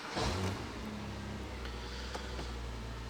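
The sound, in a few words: Porsche Boxster 987 engine starting and running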